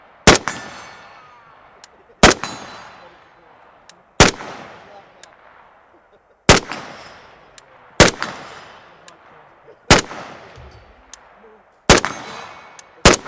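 Eight loud, sharp rifle shots from Century Arms VSKA rifles ring out one at a time, spaced roughly two seconds apart, each followed by a long decaying echo across an outdoor range.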